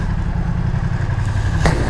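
A 2020 BMW F900XR motorcycle engine idles loud and close, with a steady, even rumble throughout and a short sharp click near the end.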